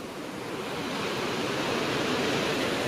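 A river near Badrinath, where clear and muddy water mix, rushes in a steady, loud broadband roar that holds constant throughout with no voices.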